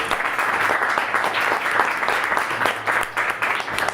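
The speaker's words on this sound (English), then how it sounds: "everybody, give David a round of applause" Audience applause for a guest speaker at a Paradox Brewing Company beer event, a steady wash of many hands clapping close by for about four seconds, with a brief cheer and faint voices underneath.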